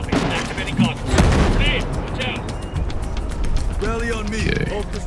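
Heavy SCAR-H rifle fire in a loud Ghost Recon Breakpoint firefight, with unsuppressed bursts and booming shots mixed with other battle noise and someone talking over much of it.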